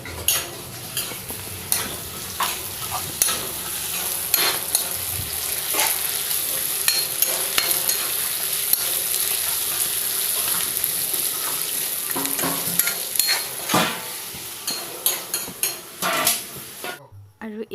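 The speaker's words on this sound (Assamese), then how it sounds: "আৰু এয়া ভাজি বনাইছে আমাৰ মায়ে ৰঙলাও দি" A vegetable bhaji is stir-fried in a pan, with constant close scraping and stirring, frequent metallic clinks of a utensil against the pan and a low sizzle underneath. Voices murmur faintly in the background.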